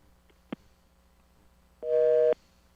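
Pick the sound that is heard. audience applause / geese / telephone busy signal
telephone busy signal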